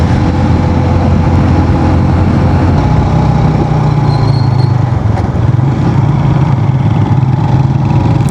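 Motorcycle engine droning steadily at speed on a mountain road tour toward Naran, the Kunhar River and Shandur Top, with heavy wind rush over the whole ride and no one speaking.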